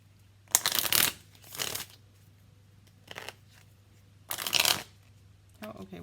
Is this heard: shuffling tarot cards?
yes